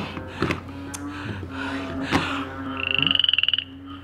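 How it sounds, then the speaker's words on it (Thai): Close croaking sounds like toads and frogs come in short bursts, ending in a rapid rattling trill, over a quiet background. "นึกว่าเสียงคางคกอึ่งอ่างร้อง"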